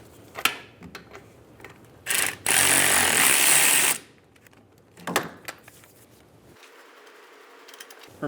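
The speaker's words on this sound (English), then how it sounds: "Using a 21mm socket, remove the 2 bolts for the caliper." A power tool, likely an impact wrench with a 21mm socket, zips out the brake caliper bolts on a 2008-2017 Buick Enclave in two loud bursts, the longer one lasting about two seconds, amid clanks and handling noises.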